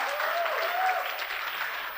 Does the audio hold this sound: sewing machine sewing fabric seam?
no